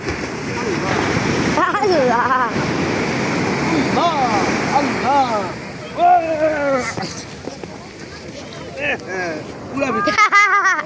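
Morning sea surf at Sugandha beach, Cox's Bazar, a steady broad wash of breaking waves rolling on the shore behind nearly constant close voices talking and calling out.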